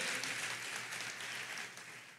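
A church congregation applauds, a faint, continuous wash of clapping from a crowd that holds steady for the brief moment and tapers slightly toward the end.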